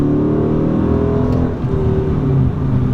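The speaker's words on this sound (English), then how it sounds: "put the car in sport mode right here, and then step on it in first gear." A 2014 Dodge Challenger R/T with its Hemi V8 in sport mode pulls hard in first gear, a loud, close, deep engine roar climbing steadily in pitch with no talking.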